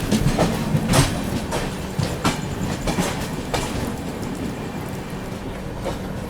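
Aboard the Tamil Nadu Superfast Express in a 2AC coach, wheels pound out a loud clickety-clack rhythm of repeated sharp knocks over rail joints, with a steady rushing roar as another train crosses alongside.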